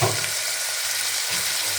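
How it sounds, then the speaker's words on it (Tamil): Onions sauté in a pan for a ridge gourd mutton kulambu, giving a short, dense, even sizzle close by with faint stirring underneath and no voices. "வெங்காயம் நல்லா வதங்கணும்."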